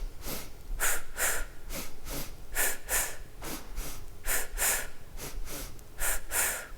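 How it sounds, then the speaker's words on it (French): Breathing exercise of paired sniffing inhales through the nose and short exhales through the mouth, close and clear, repeated in a steady rhythmic pattern with no talk. "vous commencez par inspirer 2 fois par le nez et expirer 2 fois par la bouche"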